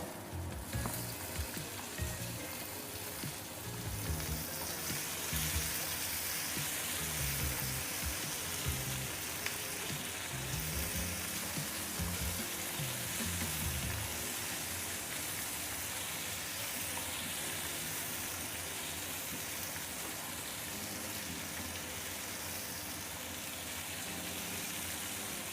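Onions frying in a pan for peanut chutney, a steady close sizzle and crackle that runs without pause, with a faint bubbling, watery texture underneath and no talking.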